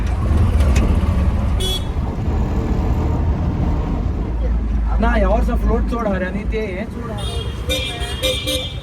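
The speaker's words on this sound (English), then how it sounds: "it is tuk-tuk time" Tuk-tuk rolling through busy city traffic in Panaji, Goa, India: a constant engine and road rumble with car horns tooting nearby and people talking over the din.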